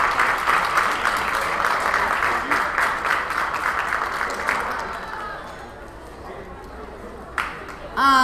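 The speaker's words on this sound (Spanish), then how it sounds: "un súper aplauso para el chef" Audience applause for a chef at a Mexican gastronomy forum, a dense roar of clapping that thins out after about five seconds before a brief burst returns at the end; a voice may be faintly present.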